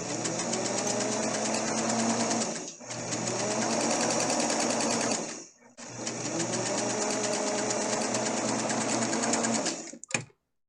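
A sewing machine stitches a second straight line along a patch seam: three long, steady runs of fast mechanical whirring, broken by short pauses and ending abruptly.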